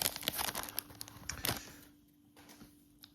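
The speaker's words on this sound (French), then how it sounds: "des packs de 4 cartes, il y en a 20 à ouvrir" Foil card packs of NBA Donruss Optic cards are torn open, with crinkly crackling foil and a few sharp rips close up in the first half, then quieter faint rustling.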